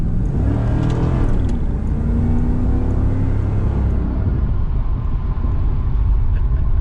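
A 1991 Chevrolet Camaro Z28 under way on a road, its engine rumbling and droning steadily from inside the car, with rising engine tones as it accelerates, road noise underneath and no talking.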